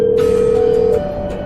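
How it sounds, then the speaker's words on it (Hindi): A telephone sounds a steady electronic tone in a dramatized crime story, holding one loud pitch for about a second before shifting to a quieter tone over background music. "एक फोन कॉल"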